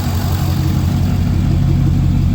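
A diesel truck engine idles steadily after a drop-in turbo upgrade, giving a loud, close, even low rumble with a constant throb and no revving.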